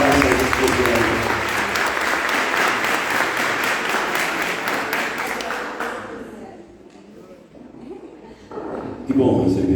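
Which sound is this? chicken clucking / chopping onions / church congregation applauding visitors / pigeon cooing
church congregation applauding visitors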